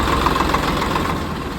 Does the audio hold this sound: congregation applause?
no